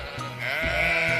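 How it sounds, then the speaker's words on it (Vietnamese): A single sheep gives a clear, sustained wavering bleat, close and loud, with no talking over it. "Con cừu."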